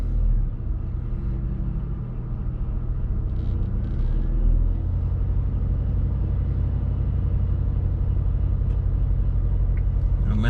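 An Infiniti QX70 engine held at a raised idle around 2,000 to 3,000 RPM, a steady, loud low rumble that swells slightly midway and then holds, with no one speaking.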